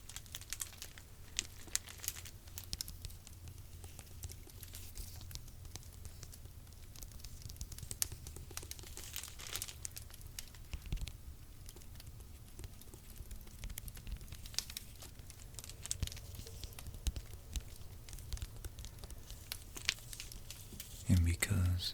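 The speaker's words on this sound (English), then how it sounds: "And because it is a library book, you know it's got those godlike crinkle sounds." Pages of a library book of Norse myths crinkle and rustle in soft, close, scattered crackles, with a quiet spoken voice going on underneath.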